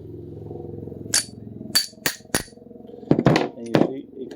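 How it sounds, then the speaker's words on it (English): Several sharp metallic hammer strikes from a smaller hammer on a drive extension fitted to a Mopar wheel lock ring out, spaced unevenly, with a low steady hum underneath and some clattering toward the end. "I hit it with a smaller hammer"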